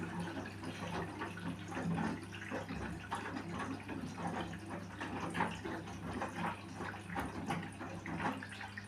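Washing machine drawing in water for its first rinse on a quick cycle, a faint continuous rushing and splashing flow over a low steady hum.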